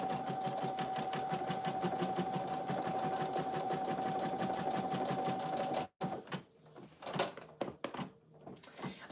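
An embroidery sewing machine stitching an in-the-hoop lip balm holder, with a steady rapid needle rhythm and a whining tone for about six seconds, then stopping abruptly before some irregular clicks and handling noises.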